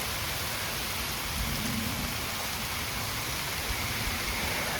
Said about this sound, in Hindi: ये बारिश स्टार्ट हो गई है भाई।